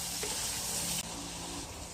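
Hotdogs sizzle and fry steadily in a hot pan, a bright continuous crackle with a faint stir midway, close and loud with no talking.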